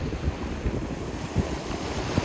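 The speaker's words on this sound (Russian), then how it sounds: "На море дует ветерок." A breeze blows over the Black Sea shore at Sochi in February, a steady rushing wind with low gusty rumbles against the microphone and a faint wash of surf, no voices.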